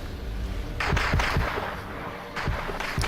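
Tank guns boom repeatedly in a Wargame strategy video game battle, dull thuds and blasts scattered irregularly over a dense, constant roar of combat noise.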